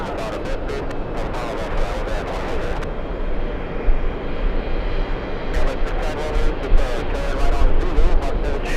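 An Airbus A380 roars steadily at JFK airport, a loud, sustained jet engine rumble lasting throughout with no voices over it.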